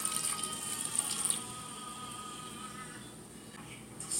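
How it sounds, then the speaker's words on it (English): Water runs from a tap or is poured into a pot of frozen peaches on a stovetop, a steady close liquid rush that softens and thins toward the end. "I'm going to add about a cup and a half of water"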